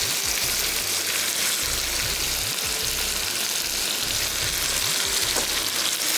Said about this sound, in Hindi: अब इसको करनी भुनाई, और इसमें जो है हम ये टमाटर जो कटे हुए थे ये भी हम इसमें शामिल करेंगे।